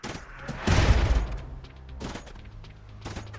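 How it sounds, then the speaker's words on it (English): Assault rifle fire in the RimWorld video game: a loud burst of shots with a booming low thump, then a few quieter, distant cracks and thuds. "Sexton will face a pikeman with an assault rifle"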